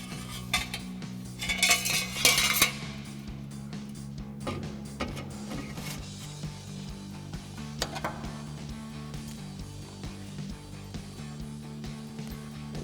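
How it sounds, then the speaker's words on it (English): Metal exhaust parts and clamps clink and rattle as a slip joint is set on a Y-pipe of a 2019-2024 Silverado 1500 Borla S-Type dual exhaust, with sharper metallic jangles early and lighter scattered clanks after, no speech. "get our slip joint in position on our Y-pipe here and add another one of our clamps"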